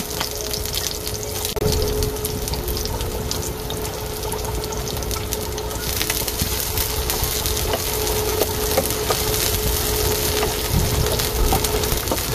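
Garlic frying in a pan while sinigang is being prepared, giving a loud, dense, continuous sizzle with occasional stirring scrapes, close and steady throughout, with no one talking.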